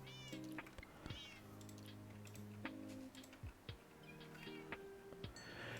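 Cats in Minecraft meow repeatedly in short, high cries, several overlapping at moderate volume, with faint clicking from a keyboard underneath.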